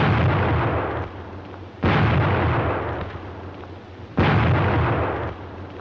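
Heavy booming blasts of grenades and gunfire roll out in a WW2 infantry assault, each burst followed by a long rumbling decay, with a second big blast a few seconds later and no voices.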